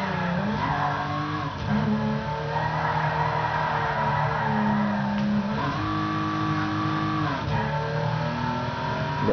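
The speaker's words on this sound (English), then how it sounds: "The engine sound is really good." Car engine in the racing game Midnight Club LA revs and accelerates, pitch climbing through repeated gear shifts with tonal exhaust drone and brief tire squeal, loud and continuous without speech.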